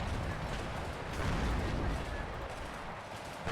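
Tank engagement gunfire in the WARNO wargame, dense and rumbling, with continuous booming shots and artillery-like blasts rolling together under faint talk.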